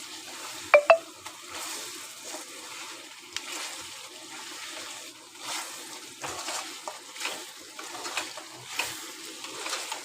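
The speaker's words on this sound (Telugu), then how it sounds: "ఇంకొక 10 నిమిషాల దాకా ఫ్రై అవ్వాలి" Chicken fries in a pan, a quiet continuous sizzle with soft stirring scrapes and a couple of sharper utensil clinks near the start, low in level and steady.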